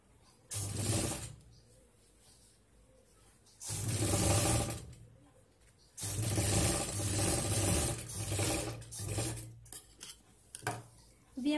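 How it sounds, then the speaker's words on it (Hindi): Sewing machine running in bursts while stitching along a folded 14x7 inch fabric piece for a handbag, close and steady, with short pauses between runs and light handling noise. "सबसे पहले हमें ये 14x7 इंचेस का पार्ट्स है उसको हम यहाँ ऊपर से ऐसे फोल्ड करेंगे और यहाँ पे हमें ऊपर स्टिच करना है।"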